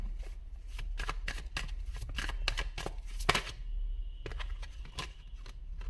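A deck of cards is shuffled for a reading in rapid riffling bursts with crisp flicks and soft slaps, close and fairly quiet, with no talking.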